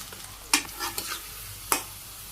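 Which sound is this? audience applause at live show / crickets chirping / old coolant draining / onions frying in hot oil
onions frying in hot oil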